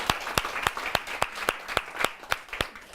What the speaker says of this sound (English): We should applaud for Joshua.